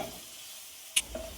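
Onion and curry leaves fry in a pan with a quiet, steady sizzle, briefly broken by one sharp stir or clink near the end.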